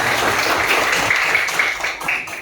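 A classroom of pupils claps together in continuous, fairly loud applause for a classmate, steady and unbroken for the whole moment.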